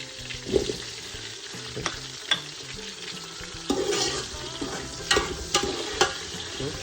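Drumsticks frying in a home kitchen pan, a soft continuous sizzle broken by repeated scraping stirs and clinks of a spoon, close and moderately loud.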